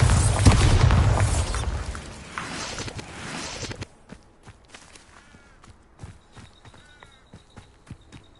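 A Bombarda spell in Hogwarts Legacy lets off a loud, close, rumbling explosion that fades over about three seconds, followed by quieter scattered footsteps and small clicks.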